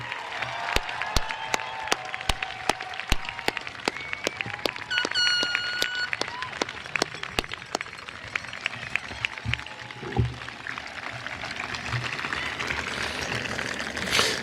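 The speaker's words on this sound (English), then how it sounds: "Let's have one giant round of applause for the class of 2019." Scattered applause for the graduating class at a high school graduation ceremony: sharp, separate claps ring out one after another over a faint crowd hubbub, with a brief high call partway through and the clapping thinning toward the end.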